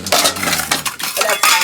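Metal cooking pots and pans clatter and clink together in several quick, close, bright bursts, with no voices over them.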